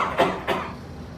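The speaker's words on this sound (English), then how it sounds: "in case you don't have a tissue on you, what you should do is then cough into your sleeve" Someone coughs into their sleeve, two quick muffled coughs close by, followed by quiet.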